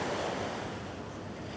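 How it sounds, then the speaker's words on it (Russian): Steady ocean surf rolling onto an empty beach in India, a continuous broadband wash with wind noise on the microphone, with no voices. "А вот, кстати, как выглядит пляж."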